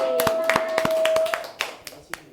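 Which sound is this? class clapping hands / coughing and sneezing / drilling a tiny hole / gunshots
class clapping hands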